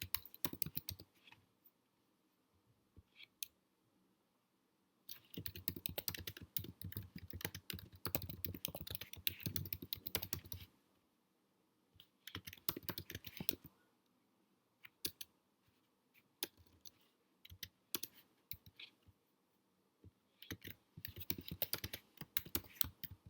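Bursts of rapid typing on a computer keyboard, crisp close key clicks coming in several clusters separated by short quiet pauses, no voices.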